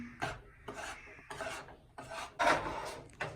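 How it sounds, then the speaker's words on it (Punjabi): Gram flour (besan) is mixed by hand for barfi, giving soft rasping, rubbing strokes in an uneven rhythm, close and fairly quiet with no talk. "ਇਹਨੂੰ ਆਪਾਂ ਨਾ ਮਿਕਸ ਕਰ ਦਿੰਨੇ ਆ ਥੋੜਾ ਥੋੜਾ ਕਰਕੇ"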